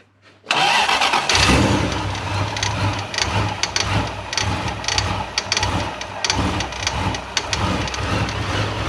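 A supercharged 1UZ V8 in a Toyota Hilux cranks and catches after a brief quiet, then settles into a loud, close, lumpy idle with rapid uneven pulsing and some rattly ticking over it.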